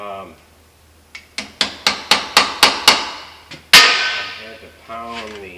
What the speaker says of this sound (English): had to pound the socket into these fasteners